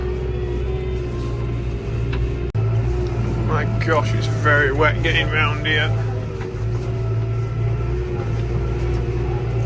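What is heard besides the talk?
tractor engine driving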